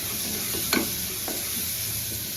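Onions frying in a pan for dal khichdi, a faint steady sizzle with a couple of brief scraping stirs, close by and with no talk.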